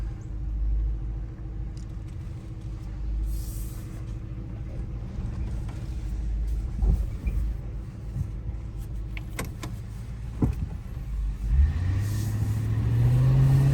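A 2008 Ford Crown Victoria, just after a lightning strike, drives along with a steady low engine and road rumble, a few clunks and creaks inside the cabin, and a rising engine tone near the end; no one speaks.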